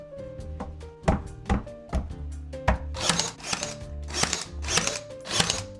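A board is nailed into place with a run of sharp, loud hammer blows, single strikes at first and then quicker clusters, ringing close by with no talk.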